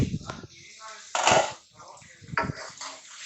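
A brief metallic clank of a lid coming off a pot of potato and egg masala curry cooking on a stove, with someone speaking quietly before and after.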